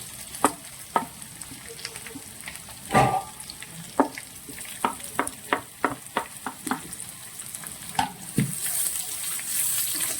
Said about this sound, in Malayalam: ഇനി നന്നായിട്ടൊന്ന് വഴട്ടോ കേട്ടോ.